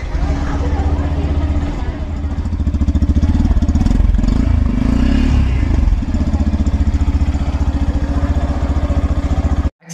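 Yamaha FZX motorcycle exhaust note, a loud, steady throbbing rumble running close by for the whole stretch, swelling briefly with a rev in the middle before settling back and cutting off abruptly at the end.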